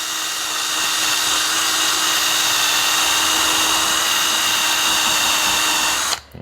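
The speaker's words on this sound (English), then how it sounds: "I'm just using a cheap Craftsman electric drill here with this 2-inch, I think, wire wheel" A cheap Craftsman electric drill spinning a 2-inch wire wheel against the coating on a hydraulic cylinder held in a welding vise, a loud, steady high-pitched whir with abrasive hiss that cuts off abruptly at the end.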